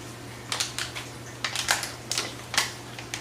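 DIY product packaging being opened by hand gives quick, crisp clicks and crinkly taps in uneven bursts, close to the mic over a steady low hum, with no talk.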